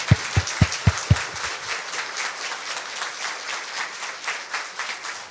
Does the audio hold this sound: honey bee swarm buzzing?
no